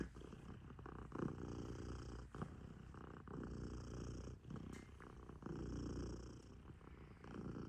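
A cat purrs steadily and close up, a low continuous rumbling with a soft breathing rhythm and a few faint bumps.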